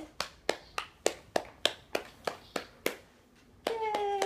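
A young child claps hands about ten times in an uneven, slightly quickening rhythm, close and fairly soft, before a brief pause and a sustained tonal sound at the end.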